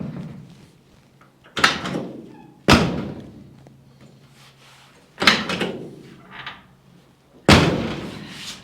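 A car door is opened and shut over and over to test the latch, giving four loud solid thunks spaced a few seconds apart, each with a short rattle, close up with no talking.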